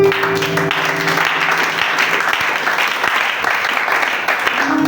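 A church congregation applauding in praise during a French-language worship service, sustained dense clapping from a large crowd that holds steady and loud throughout.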